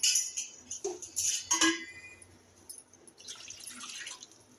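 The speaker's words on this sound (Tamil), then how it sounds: "தண்ணி ஊற்றிக்கிறோம்" Water splashes and pours into a kadai (wok-like pan) in a few uneven bursts, then trickles more softly, close and fairly quiet.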